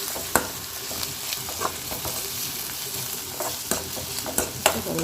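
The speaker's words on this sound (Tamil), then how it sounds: "நல்லா வெங்காயம் வதங்கிட்டு இருக்கு." Onions sauté with curry leaves in a pan for tomato pachadi, giving a continuous close sizzle broken by sharp scraping clicks of a stirring spoon, with no voices.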